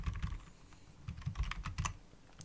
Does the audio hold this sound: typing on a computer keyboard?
yes